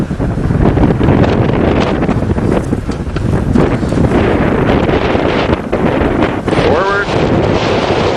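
Strong wind buffets the microphone throughout with steady loud low rumble, during a ride on a homemade redneck rollercoaster on a farm, with faint voices mixed in.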